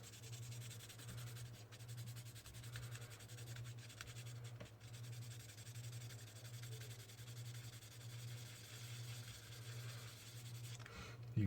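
Hand sanding a Star Trek phaser prop with worn 120 grit sandpaper, a steady rhythmic back-and-forth rubbing repeated close up for about eleven seconds, running along under a low constant hum.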